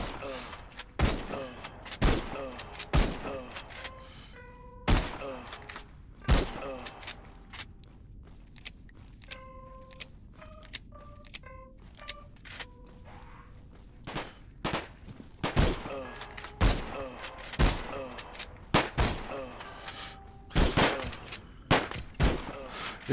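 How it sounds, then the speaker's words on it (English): Shotgun blasts ring out in a video game, a series of sharp loud booms spaced irregularly, clustered at the start and end, with quieter game effects and chimes between them. "It's so satisfying to get headshots with the shotgun."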